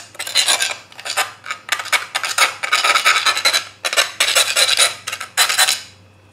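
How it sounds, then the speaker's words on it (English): Hand file rasping burrs off metal in a garage, a steady series of close, loud back-and-forth scraping strokes with brief pauses between them and no talking. "Just trying to file the burrs off."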